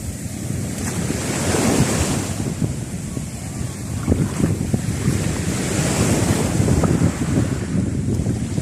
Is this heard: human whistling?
no